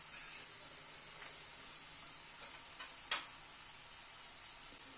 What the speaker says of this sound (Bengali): আলু আর ফুলকপিটা দুটোই একসাথে একটু ভেজে নেব